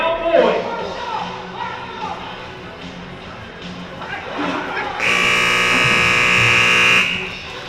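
The six-second buzzer sounds in a bareback riding run at a rodeo finals, a loud, flat electric drone lasting about two seconds. It cuts over the arena noise and a voice on the public address.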